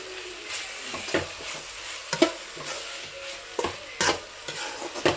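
A spoon stirring carrot chitranna rice with fresh coriander leaves in a pan, with irregular scraping and clacking strokes over a soft sizzle, close by and without talk.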